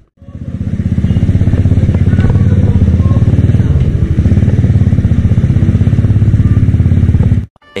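A Suzuki Shooter FI 115 fuel-injected motorcycle idles loud and close during an overall check-up, its steady, slightly clattery engine running for about seven seconds before cutting off, with no talking.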